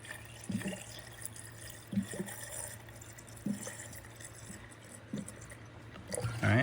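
Coolant slowly filling a Toyota Supra's interchiller system, with faint liquid trickling and soft gurgles recurring about once a second over a steady low hum; no one speaks.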